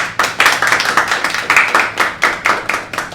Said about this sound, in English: Saad, round of applause for Saad, guys.